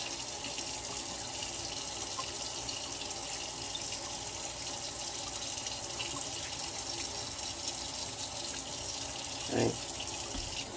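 A tap runs steadily into a sink while a container is rinsed out, a continuous moderate hiss of flowing water with a brief splashy bump near the end and no talking.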